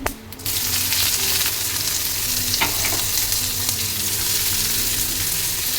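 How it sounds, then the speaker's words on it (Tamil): Onions hit hot oil with fennel seeds for a mutton liver fry, giving a loud, close, continuous sizzle with an occasional stirring scrape near the start and no one talking. "செவந்ததோட ஆனியனை போட்டுக்கலாம்"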